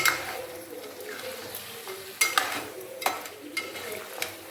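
Fish being stirred with masala in a pan, giving a soft frying sizzle with a few sharp clinks of a utensil against the pan scattered through, close and alone.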